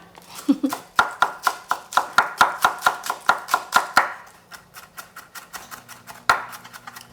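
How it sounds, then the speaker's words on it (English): A knife chops green onion on a cutting board in a quick, steady run of sharp close knocks that slows to scattered cuts near the end, with a faint voice briefly underneath. "Chop it up."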